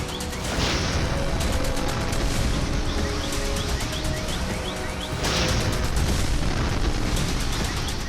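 A Houthi drone strike explosion on Shalom Aleichem Street in Tel Aviv at night, caught on a nearby street camera: loud, sustained broadband roaring blasts with a second surge partway through, no talk.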